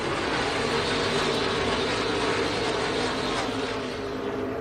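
NASCAR Craftsman Truck Series trucks racing at Las Vegas, a dense continuous engine roar from the pack that stays loud and steady throughout.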